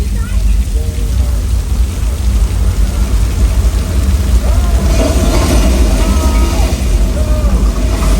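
A flash flood special effect on the Universal Studios tram tour: a loud, continuous rush of pouring water roars close by, mixed with the rumble of the tram.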